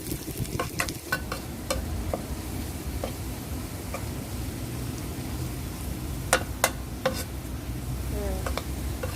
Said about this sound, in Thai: เจียวกระเทียมให้หอมเหลืองดีเลยค่ะ